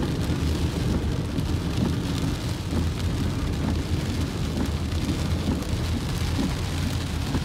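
Heavy rain and wind of a typhoon in Phu Quoc, Vietnam, roaring as a dense, steady wash with low rumbling gusts, loud and unbroken with no voices.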